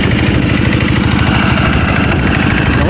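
A motor runs steadily and loudly beside a rice field, its radiator fed with added water to keep it from overheating, giving a close, continuous chugging drone with no one talking.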